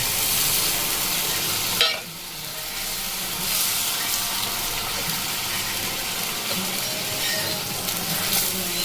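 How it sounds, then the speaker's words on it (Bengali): Paneer frying in a pan of cooked-down spice masala gives a steady, close sizzle throughout, with a brief louder burst near the start as the pieces go in. "মশলা দেখুন কষানো হয়ে গেছে এখন আমি দিয়ে দেবো পনিরগুলো"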